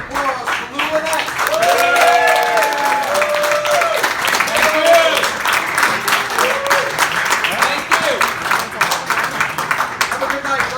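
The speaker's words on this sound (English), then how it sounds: "let's have a big round of applause for Lou Linet" An audience at a Daisy 45th anniversary celebration claps for Lew Linet, manager of KISS and Wicked Lester, with dense applause mixed with cheers and voices, loudest early on and continuing steadily.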